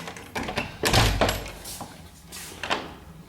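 An old church's balcony door is pushed open with a heavy wooden thunk, followed by creaks, rattles and softer knocks as it swings, fairly close in a reverberant room.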